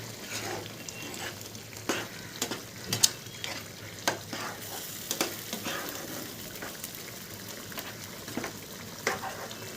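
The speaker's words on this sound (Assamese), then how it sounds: "এই ধুনীয়াকৈ উতলি আছে" Kawai fish curry with mustard simmering in a covered pot: a steady bubbling sizzle with soft scattered clicks and pops, close and fairly quiet, with no talking.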